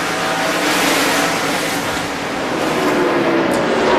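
Race cars roar past at the 2002 Food City 250 stock car race, a dense, continuous engine drone swelling and easing as the field circulates, loud and steady.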